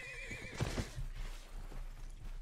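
A horse whinnies loudly in the Mount and Blade battle game, a shrill neigh at the start followed by heavy hoof clops and battlefield rumble, with no talking.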